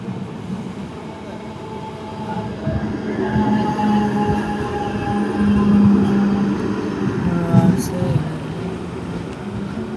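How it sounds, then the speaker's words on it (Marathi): A train rumbles past close by with rolling wheel noise and faint squeals, while people talk over the passing cars. "ट्रेन आली भावांनो"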